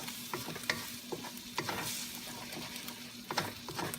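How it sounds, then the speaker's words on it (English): Scrambled egg and rice sizzle together in a frying pan for fried rice, with a steady hiss broken by repeated scraping clicks as a utensil stirs and tosses the mix close by. "are cooking our scrambled egg here. All right, and then we're gonna mix the rice"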